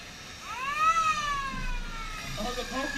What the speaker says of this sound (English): the ambulance, signing off his horn, sounding it off even